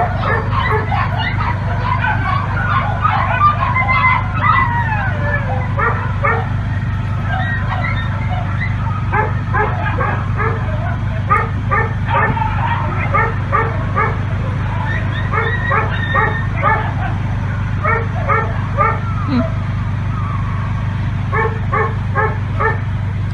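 Several dogs bark and yip repeatedly in short irregular bursts, some whimpering mixed in, close and fairly loud over a low steady background hum.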